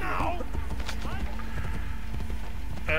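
Horse galloping in the video game Assassin's Creed Brotherhood, a steady rapid clip-clop of hooves running under continuous game sound, with a brief whinny and a voice talking over it.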